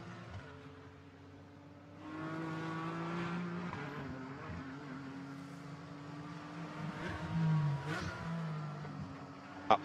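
Porsche GT4 race cars at Imola circuit in a GT4 Europe race, engines droning and rising as they accelerate past, with steady mid-distance roar and a brief sharp peak near the end.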